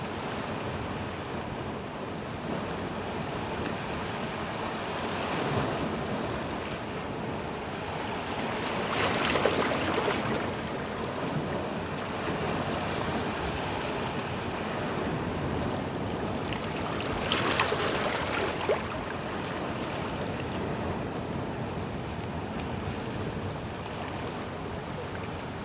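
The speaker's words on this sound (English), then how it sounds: "it's still very windy out" Strong wind sweeps across an open Scottish landscape in Sutherland, a continuous loud roar that swells into heavier gusts twice and carries on without speech.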